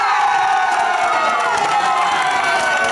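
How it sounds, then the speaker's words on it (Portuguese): Crowd cheering and applauding for children at a gaúcho pony taming event, a continuous loud wash of voices with whoops and children shouting, sustained without a break. "Eu peço o carinho de todos vocês, aplaudindo essas crianças."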